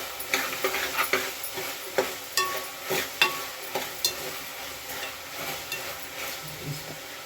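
Field bean pulao mixture being stirred and frying in a pan after salt is added: close, irregular scrapes and taps of a spoon over a soft steady sizzle, with no talking.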